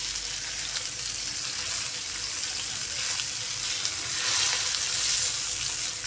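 Masala fish fries in a pan with a steady, dense sizzle that holds even and close throughout, swelling slightly near the end, with no talking.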